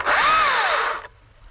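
A Stihl MSA 220c battery chainsaw cutting hardwood gives a loud, high electric whine that rises and falls in pitch for about a second, then cuts off abruptly, leaving near silence.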